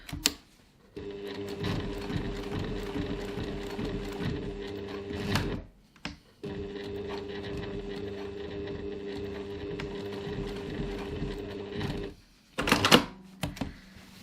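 A sewing machine stitches across the bottom of a grocery bag strap in two long, steady whirring runs with rapid needle clatter, separated by a short pause, then ending with a brief louder burst.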